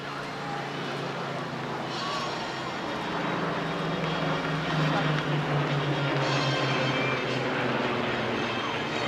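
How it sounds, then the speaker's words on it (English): A Supermarine Spitfire and a Hawker Hurricane of the Battle of Britain Memorial Flight fly at a seaside airshow, their piston engines a steady, rising drone at a distance, with murmuring voices from the crowd. "from the Battle of Britain Memorial Flight, we have the Spitfire and we have the Hurricane"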